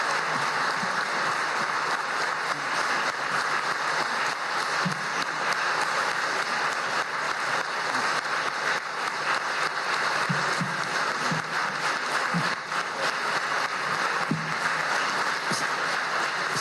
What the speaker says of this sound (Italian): non ha mai avuto un applauso così intenso.